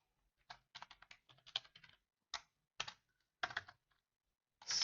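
Someone writes C++ code on a computer keyboard, producing close, crisp keystrokes in quick irregular bursts with brief gaps between them.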